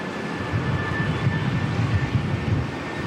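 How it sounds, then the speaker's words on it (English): An Airbus A320 in black livery departs Auckland Airport, its jet engines giving a steady, broad, moderately distant roar with a low rumbling texture that holds evenly throughout, with no voices. "Got a black livery A320 heading out again."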